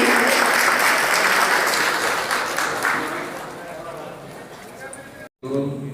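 Applause from the crowd at a district teachers' meeting fills the room as loud, dense clapping that slowly thins and fades, breaks off briefly, then is followed by a voice.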